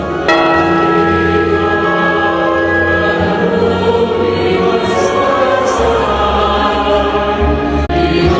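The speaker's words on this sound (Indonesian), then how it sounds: "lonceng gereja pun berbunyi, menandakan misa akan segera dimulai" A church bell rings loudly with a sustained, rich tone, announcing that Mass is about to begin, its resonance lingering continuously with no voices present.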